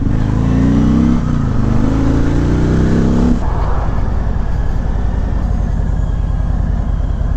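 A Harley-Davidson Freewheeler trike rumbles loud and close while riding, its engine note climbing under acceleration before settling into a steady throbbing drone with rapid pulsing exhaust beats and constant wind rush.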